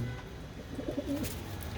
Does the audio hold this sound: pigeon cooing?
yes